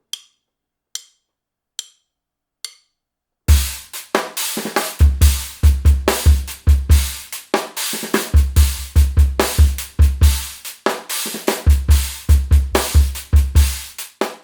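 A few light ticks count in, then a full drum groove kicks in: booming bass drum, crisp cymbals and a sharp rim shot on the 4, bouncy and loud.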